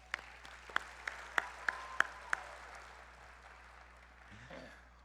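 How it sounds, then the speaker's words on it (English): Scattered audience clapping at a humanitarian awards event, a sparse run of distinct claps standing out over a soft crowd bed before fading into quiet room noise with a faint murmur. "So let's give them a round of applause."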